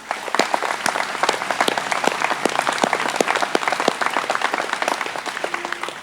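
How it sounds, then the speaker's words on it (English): Steady, dense applause from a crowd of co-op members at an annual meeting, sustained and even throughout with no voices rising above it. "please join me in giving this group of Como employees one more round of applause"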